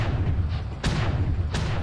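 Two UAC-5 autocannons on a Bushwacker mech in MechWarrior Online firing, a steady heavy rumble broken by two sharp booming shots spaced about seven tenths of a second apart.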